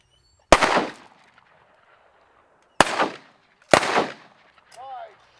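Three sharp shotgun blasts during a Kansas duck hunt, spaced unevenly over several seconds, each loud and close with a brief outdoor tail, followed by a faint bit of talk.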